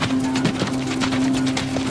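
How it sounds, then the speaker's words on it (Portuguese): Horse hooves from medieval travelling horses clop in a loose, continuous rhythm under a steady drone, fairly loud and close, with no voices. "Estes são cavalos viajantes medievais"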